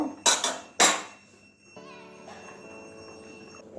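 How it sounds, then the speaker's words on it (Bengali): A metal lid lifted off a pot of simmering vegetable dal with broad beans, two sharp close clanks followed by a fading metallic ring over a soft background hiss. "এবারে ঢাকনাটা খুলে নিচ্ছি"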